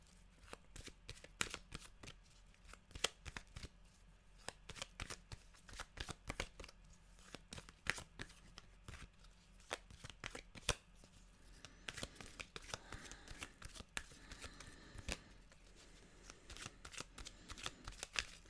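A deck of animal oracle cards is shuffled steadily for the whole stretch, a dense run of crisp riffling flicks and slaps close by, with no voices.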